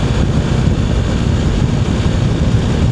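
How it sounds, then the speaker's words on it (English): Strong wind on Highway 410 in Washington State roars and buffets the microphone, a constant low rumble with no breaks and nothing else audible. "Wind is blowing pretty fierce."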